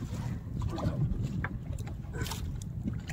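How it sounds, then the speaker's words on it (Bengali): A boat rocks on choppy waves in a deep Sundarbans river, with low rumbling water slaps and wind buffeting the microphone, plus scattered knocks and splashes over about three seconds. "আর ঢেউ প্রচুর, নৌকাটা দুলছে শুধু দেখুন আপনারা।"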